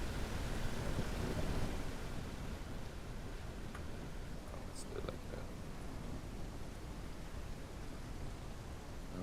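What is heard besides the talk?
rain in a video game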